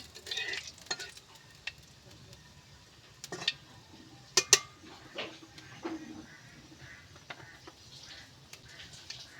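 Cloves and a piece of cinnamon go into hot oil for a sour-sweet hog plum pickle, giving a faint, quiet sizzle broken by a few sharp clinks and scrapes of a spoon against the pan.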